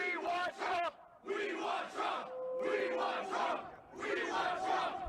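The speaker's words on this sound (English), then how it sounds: "A crowd forming outside the courthouse in Atlanta today." A crowd outside a courthouse in Atlanta, heard as loud, close chanting voices in several rhythmic bursts separated by short pauses, with shouted tones rising over the group.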